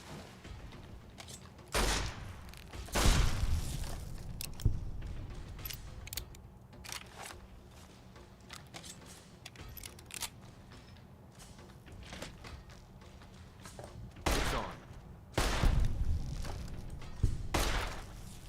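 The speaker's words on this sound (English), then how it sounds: "I think the tri-beam was a bit much for these guys" Tri-beam laser rifle fired in Fallout: New Vegas, several sharp energy blasts in separate bursts with mechanical clanks and rattles between shots, loud and with no talk.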